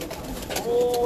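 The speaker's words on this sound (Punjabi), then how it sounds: "ਇਹ ਜੀ ਅਸਲ ਕਬੂਤਰ ਨੀਲ ਦੁੰਬੇ" Blue-tailed pigeons at a champion pigeon-flying gathering give a brief, soft coo, close and faint, lasting barely a second.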